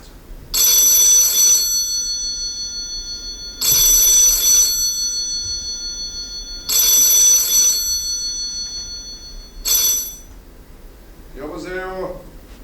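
A telephone bell rings loud and close in four long bursts with short gaps between them, the last one cut short. A voice answers right after.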